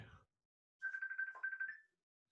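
A phone rings in a quiet room with a single electronic ringtone burst: a steady warbling tone lasting about a second, clear and close after a brief noise at the start.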